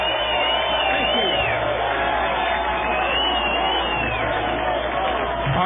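A large crowd cheers, whoops and applauds continuously at a New Hampshire primary night rally after Texas congressman Ron Paul's speech, a dense, steady roar of voices and clapping.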